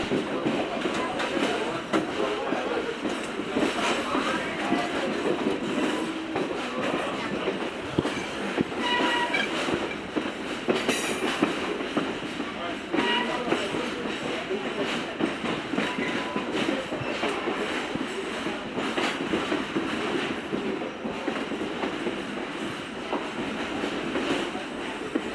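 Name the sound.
Adirondack Scenic Railroad train heading out of the yard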